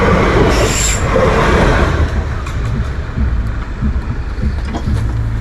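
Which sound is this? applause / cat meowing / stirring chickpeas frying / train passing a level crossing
train passing a level crossing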